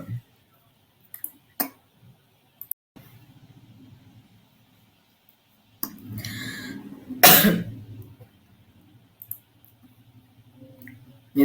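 A person coughs in a quiet room, with a few short isolated coughs early on, then a louder burst of harsh coughing around the middle, followed by faint throat noises.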